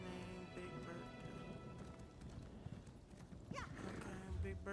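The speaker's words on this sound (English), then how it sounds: "My horse's name Big Bertha" Horse hooves clip-clop in an Elder Scrolls video game, a steady rhythmic trot under layered game music and ambience, with a brief whinny-like squeal near the end.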